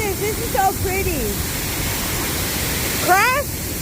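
A waterfall in Framingham, Massachusetts roars with a steady, loud rushing wash that fills the whole scene, while someone briefly talks over it near the start and end.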